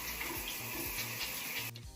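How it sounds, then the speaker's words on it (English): Wet curly hair is scrunched with conditioner in repeated squeezes, giving soft squelchy, watery squishes in a steady rhythm, close and fairly quiet, ending with a brief pause. "I want to squeeze conditioner through my hair, so make sure your hair is wet and just make sure you hear that scrunching noise"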